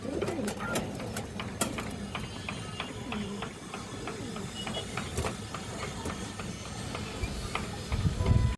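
Pigeons coo steadily at a pigeon farm, a dense, close chorus of low, rolling calls with scattered sharper clicks and flutters throughout.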